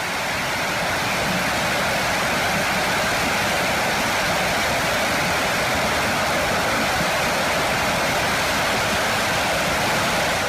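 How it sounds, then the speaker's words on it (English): Supersonic airplane engines run on a ground test stand with the aircraft secured, making a continuous, loud, broadband roar like rushing water that holds steady throughout. "Here you can see how the engines of a supersonic airplane are tested."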